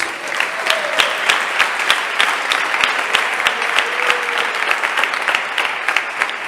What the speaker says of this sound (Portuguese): bater as palmas bem alegres para o Senhor Jesus